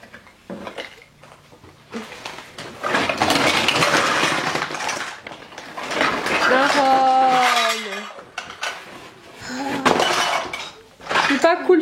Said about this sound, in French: Oh là là, t'as pris tout la vaisselle.